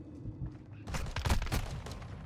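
Rapid gunfire from Call of Duty: Modern Warfare II, a cluster of sharp bursts rising midway and continuing to the end, moderately loud with a faint voice briefly under it.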